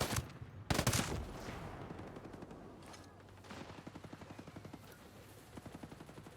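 An enemy heavy machine gunner in Ghost Recon Breakpoint fires long rapid bursts, a steady rattling stream of shots after a couple of louder nearby blasts, sounding somewhat distant.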